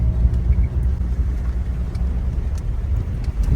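Toyota RAV4 driving, a steady low engine and road rumble from inside the car with some wind buffeting, continuous and fairly loud without talk.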